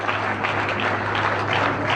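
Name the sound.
applause welcoming the chief guest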